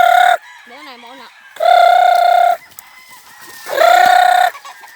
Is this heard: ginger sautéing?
no